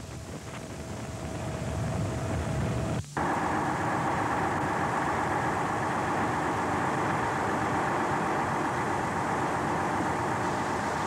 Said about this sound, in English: A 450-horsepower heavy-duty tractor is coupled to the front dolly to develop the required pulling force.